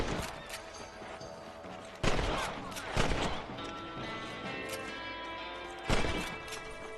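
Rifle shots aimed at rabbits in Red Dead Redemption crack out at irregular intervals, several sharp reports over a dense backdrop of game music and ambience.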